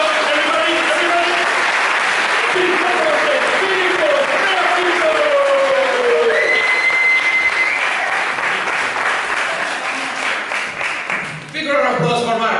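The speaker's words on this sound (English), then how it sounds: "We're gonna start a round of applause from this guy to the last guy." A large theatre audience claps and cheers in a sustained, dense burst that starts out strong and gradually thins toward the end, with voices faintly mixed in.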